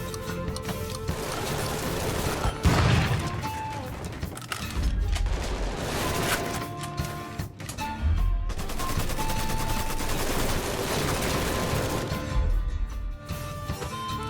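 Gunfire in Mafia III: dense, continuous bursts of automatic weapons fire with heavy booms and impacts, sustained and layered throughout, with no talk.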